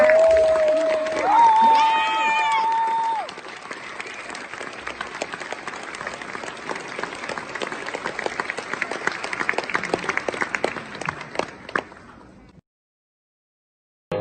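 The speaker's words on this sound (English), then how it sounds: "Ladies and gentlemen, round of applause" A large crowd applauds steadily, dense clapping with a few cheers and a voice over it early on, then the applause cuts off abruptly.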